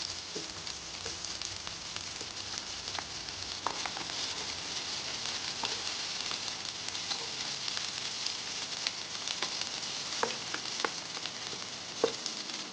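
Onions sauté in hot oil with garlic in a pan, giving a steady, even sizzle with faint crackles and occasional soft stirring taps, close and moderate in level, with no speech.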